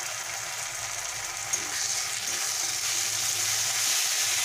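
Onions and ginger paste fry in oil for a mutton fat curry, giving a steady, close sizzle and crackle that holds evenly throughout with no voices.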